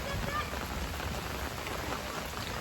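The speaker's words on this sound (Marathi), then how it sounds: "काय पाऊस काय जात नाही कंटिन्यू पाऊसच आहे यार" Continuous monsoon rain falls outdoors in an even, dense wash of hiss that stays loud and unbroken throughout.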